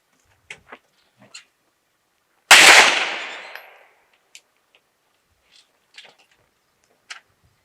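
A single sharp handgun shot from a Walther PDP or H&K VP9SK at a range cracks loud and near, its echo tailing off over about a second, amid quiet scattered clicks and small handling noises.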